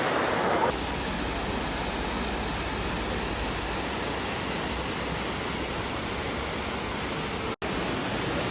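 A waterfall near tea plantations in Munnar gives a constant, even hiss of falling water from start to finish, steady and fairly loud, with a brief cutout near the end.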